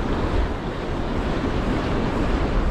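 Whitewash surf from breaking waves hisses and rumbles steadily, with wind buffeting the microphone throughout and no voices.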